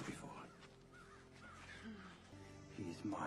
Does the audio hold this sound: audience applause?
no